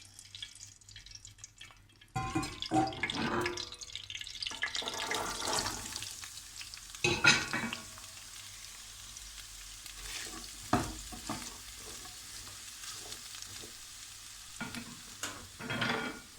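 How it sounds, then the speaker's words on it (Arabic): Carrots frying in the same oil used earlier for onions, for Afghan-style rice: a steady broadband sizzle begins after a quiet start, with louder bursts of stirring scattered throughout, close and without talk. "نفس الزيت اللي صفيته من البصل رح أحمر فيه الجزر."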